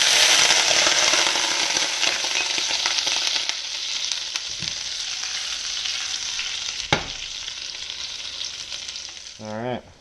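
Crab meat browns in reduced butter in a pan. A loud, bright sizzle is strongest at first and eases slowly, with a sharp clink partway through and a brief tonal scrape near the end.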